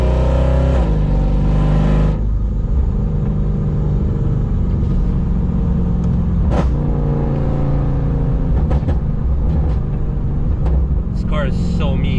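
A Mercedes C63 AMG Black Series, fitted with race seats and a roll cage, revs hard, then settles into a loud, deep rumbling idle with a few sharp blips, close and steady throughout.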